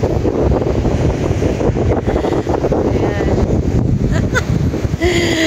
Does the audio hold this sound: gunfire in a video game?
no